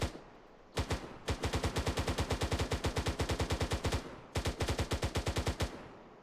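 Automatic rifle or machine gun firing in the Arma 3 video game, two sustained rapid bursts of evenly spaced loud shots separated by a short pause, with no talking.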